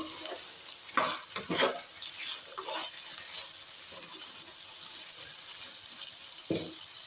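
Okra frying and steaming in oil with cumin powder, salt and spices, stirred slowly in an uncovered pan: a steady soft sizzle with a few scraping stir strokes near the start and one more later.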